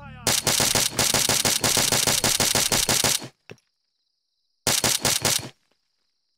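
Rapid bursts of automatic rifle fire in ARMA 3 crack out sharp and close, one long rattling volley followed by a pause with a faint high whine, then a second short burst.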